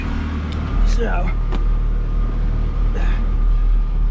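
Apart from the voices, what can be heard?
Ferrari engine warming up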